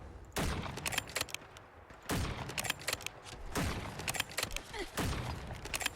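Shots from the BT SPR sniper rifle in Fallout 4 ring out in four sharp, well-spaced reports, each a loud close crack with a short decaying tail over quiet background, with someone talking between them.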